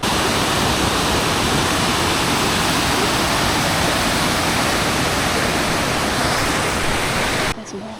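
A waterfall and river in the High Tatras of Slovakia and Poland roar steadily and loudly up close, a dense unbroken rush of water that fills the whole stretch before dropping off at the very end.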